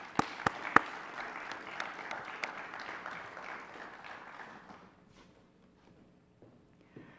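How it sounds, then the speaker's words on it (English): Applause for award winners at a convocation ceremony, a few sharp claps followed by a spread of moderate clapping that fades out over several seconds into near silence. "Another round of applause, please."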